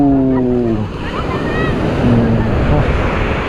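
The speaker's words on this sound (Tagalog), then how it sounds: "mas malakas na po yung alon" Ocean waves wash and crash steadily on a Siargao beach, a continuous loud roar with wind buffeting the microphone and voices calling over it.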